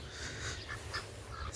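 A duck on a small farm gives a few soft, faint quacks in quick succession against quiet background noise.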